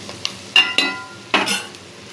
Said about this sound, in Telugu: పసుపు వేసుకుందాం కొంచెం సరిపడా కలుపుకుందాం